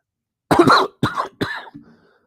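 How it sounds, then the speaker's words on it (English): Three harsh coughs in quick succession, close and loud, the last trailing off into a softer throaty rasp. "other than my coughing"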